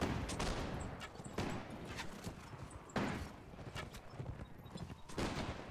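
Hooves clatter from a galloping horse archer in the video game With Fire & Sword, mixed with battle noise: rapid hoof clip-clop and several sharp bursts like gunfire, fairly faint under a busy multiplayer fight.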